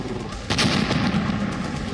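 Explosions from Ukrainian drone strikes on Russian tanks in the Russia–Ukraine war: a sharp blast lands about a quarter of the way in, then a dense, rumbling roar of battlefield noise carries on loudly to the end, with no talk.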